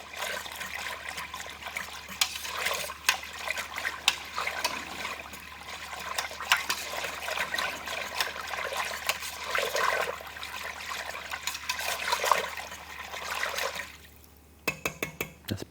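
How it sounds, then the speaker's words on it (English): A whisk stirring yogurt starter into milk in a bowl, a steady liquid sloshing and scraping close by for about fourteen seconds, then brief clinks as it stops. "I would recommend a whisk like this, and then getting that worked in and dissolved in the milk"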